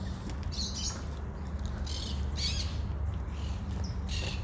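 Parrots calling in Syntagma park in Athens, a series of harsh bursts repeating at short intervals over a steady low rumble of city background.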